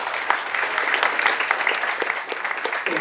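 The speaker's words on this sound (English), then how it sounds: "Round of applause for her." Applause for a young volunteer at a students' show, a dense patter of clapping from a small crowd held steady for about three seconds at close range.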